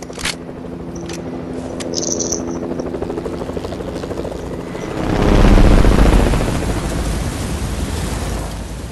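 A helicopter in a video game drones with a steady rotor hum that swells into a louder, rushing roar midway before settling, mixed with scraping noise and a few short tones early on.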